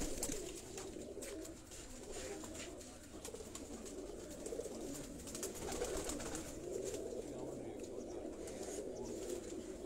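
Flock of racing pigeons cooing at close range, soft repeated throaty coos mixed with scattered chirps over a faint background hum, with no clear talk.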